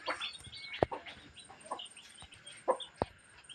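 A rain-soaked chicken on a farm clucks faintly in short scattered bursts, with a few sharp knocks and a quiet high hum in the background.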